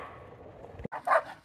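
A dog barks at a raccoon caught in a trap on a trail, giving a couple of sharp, close barks after a low growling whine.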